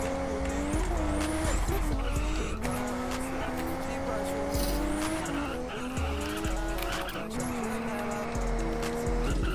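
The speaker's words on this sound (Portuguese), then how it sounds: "Fazer o replay tu batendo o carro." Racing car in a video game replay skidding and crashing, a continuous engine whine with sustained tire squeals, loud and close, under talking voices.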